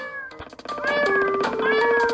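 Cartoonish cat meows from the video game Crashy Cats, several short, loud mews in quick succession followed by a longer drawn-out yowl, heard alone.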